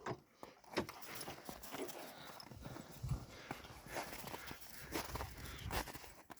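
A young draft mare's hooves clop along at an uneven walking pace, close by, with faint background noise between steps.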